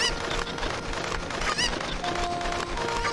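Chicken clucking and squawking in The Legend of Zelda: Ocarina of Time, with shrill bird calls over busy, dense game music that runs throughout at steady loudness.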